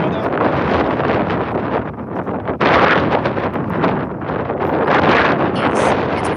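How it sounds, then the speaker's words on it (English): Strong wind blows outdoors, buffeting the microphone in loud, gusty surges with a rough roaring hiss that swells and eases throughout, alone without talk. "Yes, it's quite windy outside. I can hear the wind"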